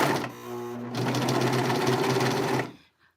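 A Pfaff Admire 1000 overlocker serger stitches fabric in a steady, fast mechanical whir close by, the pace picking up after a brief start and running for a couple of seconds before stopping abruptly.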